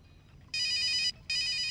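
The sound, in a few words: telephone ringing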